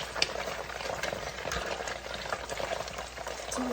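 Egg tofu with mushrooms fries in a pan, giving a steady close sizzle and crackle with small pops that carries on continuously at moderate volume.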